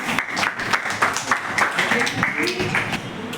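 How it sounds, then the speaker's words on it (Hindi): A classroom of students gives enthusiastic applause during a quiz competition, a dense burst of clapping hands with voices mixed in. "तो जोरदार तालियां इनके लिए।"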